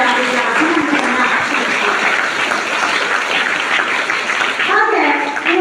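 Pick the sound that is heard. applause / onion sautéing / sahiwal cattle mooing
applause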